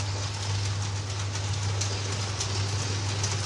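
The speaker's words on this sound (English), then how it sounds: "And the goods train is heading off" A model goods train departs on a Rhineland-themed model railway layout, giving a steady, faint rolling rumble with a constant low motor hum and no talking.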